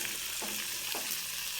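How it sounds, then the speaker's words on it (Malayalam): Tomato pickle ingredients sauté in a pan with a steady broadband sizzle, while two short scraping stirs of a spoon sound close by; no one speaks. "അപ്പോൾ തക്കാളി കൊണ്ടുള്ള അച്ചാറിനുള്ള ചേരുവകളെല്ലാം ഒന്ന് വഴന്ന് വന്നിട്ടുണ്ട്."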